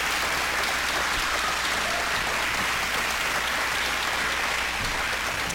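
Audience applause for candidates at a gubernatorial campaign debate, a dense, even wash of clapping that holds at full strength for several seconds without talk.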